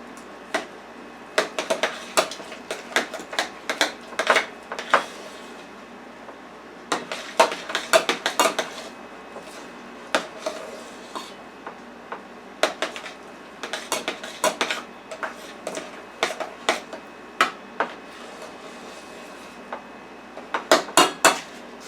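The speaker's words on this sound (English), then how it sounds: "let's mix in our bacon" A spoon clanks and scrapes against a bowl while apple wood bacon is mixed into mashed potatoes, in irregular bursts of close clinking separated by short pauses.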